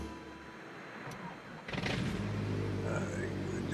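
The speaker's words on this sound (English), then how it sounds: "Let's start up the engine." Optica aircraft engine starting up in Microsoft Flight Simulator, a short click followed by the engine catching and settling into a steady droning hum that continues loud and unbroken.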